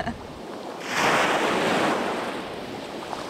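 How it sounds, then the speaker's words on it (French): Sea waves wash in with a broad rushing surge that swells and recedes, under steady wind buffeting the microphone, on a coastal path. "près de la mer, les vagues, le vent"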